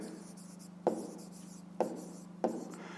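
Digits written by hand on paper during a fifth-grade maths exercise, three short, distinct pen strokes spaced about a second apart, close and soft over a faint steady hum.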